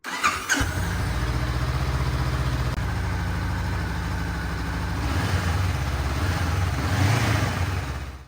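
A touring motorcycle engine fires up with a sharp start, then settles into a steady, loud, rumbling idle close by, with a slight rise in revs near the end and no talking.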